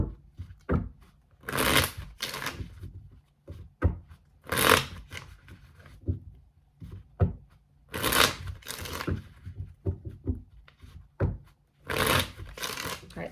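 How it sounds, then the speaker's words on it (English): Tarot cards being shuffled in bursts of riffling and slapping, close and fairly loud, with short pauses between rounds and no talk. "All right, last shuffle."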